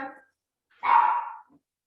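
A small dog gives one loud, close bark, with a short yip just after, during an online class where a child names the dog.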